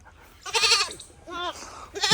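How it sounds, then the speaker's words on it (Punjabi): Goats bleat in three separate bursts at a construction site, the calls loud and close with wavering pitch. "ਤਿੰਨ ਬੱਕਰੀਆਂ ਦਾ ਰਸਤਾ ਭੁੱਲ ਗਏ ਆ"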